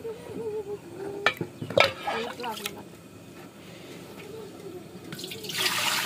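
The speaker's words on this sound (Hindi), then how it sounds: "माप के पानी डालेंगे इसमें" A few clanks of metal utensils come first, then measured water pours into a cooking pot near the end as a close, rising splash.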